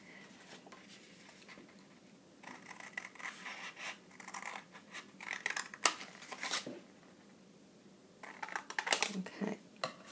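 Scissors snipping out a corner of material, a few soft scratchy cuts in short bursts with pauses between, close and quiet, no voices.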